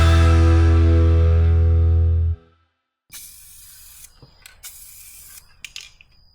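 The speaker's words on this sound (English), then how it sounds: "then we can start prepping to paint the axle and get that painted." After a fading tonal hum, short hissing bursts of spray paint coat a car axle during a Factory Five XTF chassis build; the bursts are close and separated by brief pauses.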